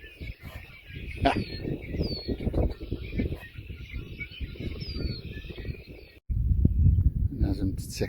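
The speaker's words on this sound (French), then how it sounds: "On entend la nature, les oiseaux." Birdsong along Silver Creek in Idaho, with high chirps and whistled calls over steady outdoor noise, and louder low rumble toward the end.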